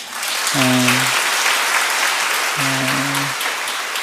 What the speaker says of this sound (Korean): 네, 박수 좀 환영하세요.